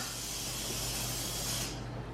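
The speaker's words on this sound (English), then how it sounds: "Spray it down." A steady, hissing spray from a bottle held close, lasting a couple of seconds before tapering off.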